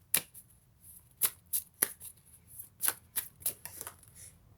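Spirit animal oracle cards being shuffled by hand, heard as a string of crisp riffling bursts and soft slaps, close and clear in a quiet room, with no talking.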